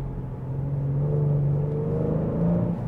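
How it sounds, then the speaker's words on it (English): A 2024 Genesis G70 3.3T Sport Prestige accelerates hard with a downshift, its engine rising into a deep, swelling rumble and whir heard close from inside the cabin, with no talking. "One more time, guys, we can downshift on the gas."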